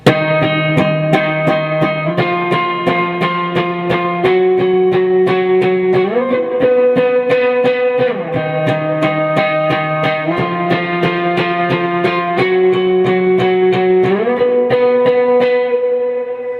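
A distorted electric guitar plays a repeating sustained riff with picked accents, loud and steady, its chords shifting in a looping pattern with a shimmering effect.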